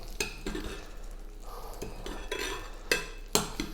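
Butter-basted figs in a pan, with a spoon clinking and scraping against the metal at intervals over a soft, continuous sizzle of butter, close and fairly quiet.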